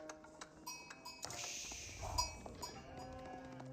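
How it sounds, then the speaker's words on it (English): Sheep bleating in the strategy game Age of Empires 4, a few faint, short game calls mixed with clicks, pings and other interface sounds during a match, without any voices. "We do now have some sheep clicking up"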